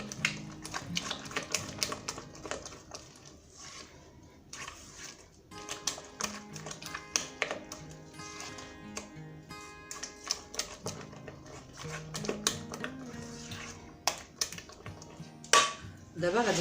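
A whisk or spoon clatters rhythmically against a bowl while two egg yolks are mixed for chocolate soufflés, producing close, repeated tapping and clinking with brief pauses.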